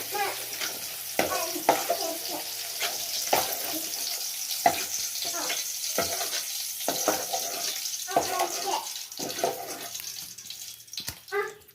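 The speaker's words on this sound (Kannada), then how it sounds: "ಅದನ್ನಿಲ್ಲಿ ಫ್ರೈ ಮಾಡ್ಕೊತಾ ಇದ್ದೀನಿ" Ingredients for capsicum paneer masala frying in a pan, with a continuous close sizzle broken by repeated scraping stirs and clinks of a utensil, no voices.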